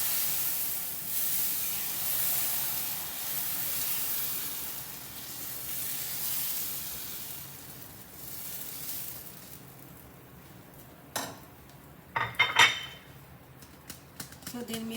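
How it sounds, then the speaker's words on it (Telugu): Dosa batter cooking on a hot pan after a spray of oil, giving a steady broad hiss and sizzle that fades midway, followed by a few sharp clicks and scrapes near the end. "సో దీని మీద ఇప్పుడు కొంచెము మనం ఆయిల్ స్ప్రే చేసుకున్నాము"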